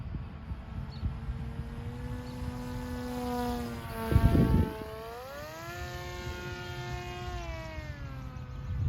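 A radio-controlled Versa Wing flying-wing plane on a 3S battery with a 945 propeller, flying slowly at night: a thin propeller whine that rises and falls in pitch as it passes, with a brief louder burst partway through.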